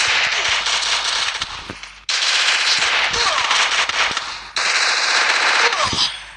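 Rapid automatic gunfire from the Free Fire mobile game rattles in long, loud, continuous bursts with brief gaps between them, dense and close, with no talking.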